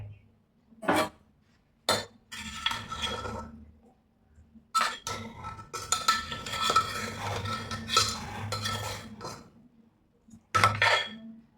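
Egg manthi rice in a pot, with coriander leaves just added, is stirred with a utensil, giving intermittent bursts of scraping and clinking against the pot. The scraping is close and moderately loud with short pauses between strokes, and no one speaks.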